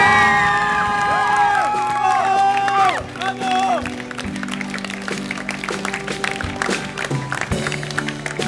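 An audience applauds and cheers for the children at an outdoor musical performance at a pilgrimage event, with clapping, whoops and crowd noise rising as music fades out and voices carry over it.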